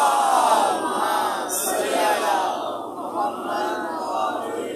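A packed crowd chants salawat in unison, even louder and more forceful, a massed roar of voices that holds steady with slight surges throughout.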